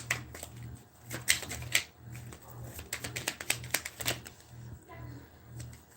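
Tarot cards riffle and slap in quick irregular bursts, crisp clicks and flutters close by, with short pauses between shuffles.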